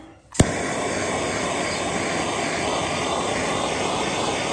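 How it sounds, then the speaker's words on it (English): A MAP gas torch roars steadily as it scorches wood, igniting with a sharp pop and then holding a constant loud hiss close by. "some of the wood burning I've been doing. It's using the map gas."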